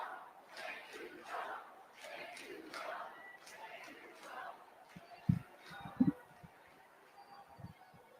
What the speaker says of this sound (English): They said, "Thank you, Trump.